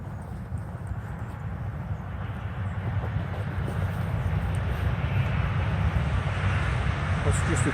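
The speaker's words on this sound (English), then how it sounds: "That's just a train going past." Train passing on a nearby railway through rainy woodland, a steady low rumble and rolling rattle that builds gradually and stays constant, with a voice talking over it.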